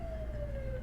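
A brief siren sound effect rings out as a single steady wailing tone over a low rumble, lasting under a second.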